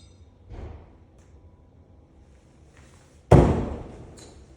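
A hatchet thrown in a WATL competition at Anvil Axe Co. in Neosho, Missouri hits a wooden target once with a sharp, loud thud, after a fainter soft thump earlier.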